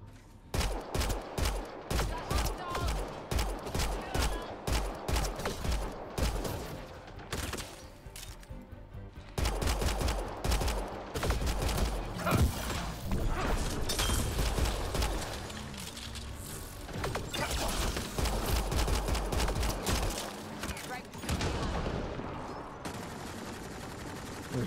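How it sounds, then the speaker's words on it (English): Sustained pistol gunfire during a combat firefight in the video game Mass Effect Andromeda, with rapid, dense shots and crashing impacts nearly nonstop, brief lulls breaking the loud barrage. "Time for some pistol sniping."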